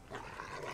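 A single short bark from Boom, the dog companion in Far Cry 5, quick and close over low game ambience.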